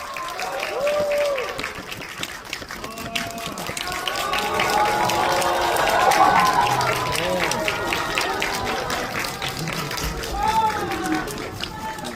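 A cinema audience at COEX Megabox applauds during a stage greeting for the film Seungbu, with the director and cast present: dense, sustained clapping from a large crowd swells toward the middle under an amplified voice speaking.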